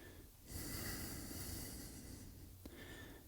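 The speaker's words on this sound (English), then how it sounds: "Reach both arms up, deep breath in." A single long, deep inhale drawn in through the nose during a yoga crescent lunge with arms reaching overhead, close and quiet, followed by a short pause and a faint second breath.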